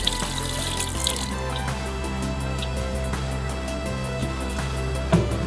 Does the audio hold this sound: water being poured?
yes